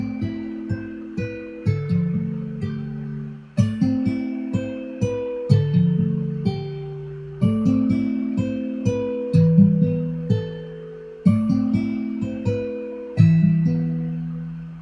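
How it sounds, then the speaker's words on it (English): An acoustic guitar strummed in repeating chord patterns, each strum ringing and decaying before the next, close and unaccompanied. "I still got the real guitar right here."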